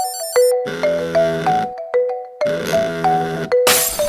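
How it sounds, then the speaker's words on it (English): Phone notification sound: a series of bright electronic chimes and ding-dong tones repeating in short bursts, loud and close, alone with no talk. "As we hear the buzz sound of our phone's notifications, this sound craves us to check out our phones"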